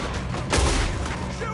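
A single heavy gunshot booms out during a video game shootout in Red Dead Redemption 2, one loud, close blast with a brief rumbling tail over a busy background.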